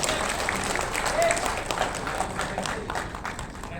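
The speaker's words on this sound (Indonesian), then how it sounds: "Aplaus dulu dong." Audience applause fills the room at a regional working meeting, a dense steady clatter of many hands that holds for the whole stretch with crowd noise mixed in.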